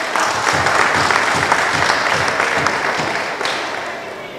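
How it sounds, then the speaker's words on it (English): An audience at a constituency conference in northwest Manchester applauds, a loud, sustained wash of many hands clapping close up, with a rhythmic pattern of claps running through it. "Clap it up."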